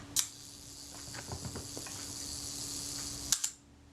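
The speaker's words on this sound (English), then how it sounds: "Let's see if the self-timer runs." An Agfa Record II camera's self-timer runs: a sharp click starts a soft, continuous mechanical whir with faint ticking, which ends in another crisp click of the shutter, all close and quiet.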